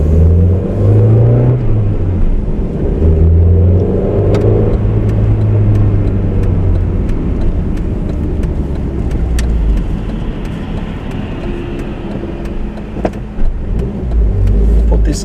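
A manual 2005 Mercedes-Benz A200 (W169) driving at low speed through tight corners, its engine a steady mid-pitched hum with road rumble throughout, loud and close, with no voices.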